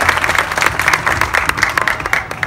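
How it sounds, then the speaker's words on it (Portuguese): Congregation applause at a children's church gathering in Petrolândia, Brazil, steady dense clapping from a group for about two and a half seconds, moderately loud and close, with no talk over it. "Se você crê, aplauda ao Senhor Jesus."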